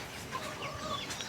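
Domestic chickens clucking around a village house with a vegetable garden in rural Nepal, soft scattered clucks close by over steady outdoor background noise.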